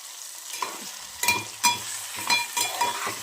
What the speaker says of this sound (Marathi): आपलं हे होतं आहे छान असं फ्राय होतं